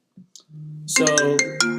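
A mobile phone ringtone plays alone after a couple of soft clicks, a loud melodic electronic tune with bright, repeating tonal notes.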